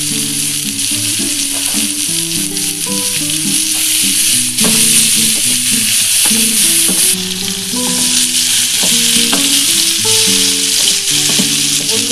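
Vegetarian fried rice, sweetened with a little sugar, fries loudly in a pan with a constant bright sizzle. Stirring clatters underneath, with tonal background music and no talking.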